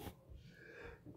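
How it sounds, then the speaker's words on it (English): A single sudden sneeze from a man sick with COVID, a sharp close burst at the very start that trails into faint breathy noise, quiet overall, with no talking. "I gotta sneeze."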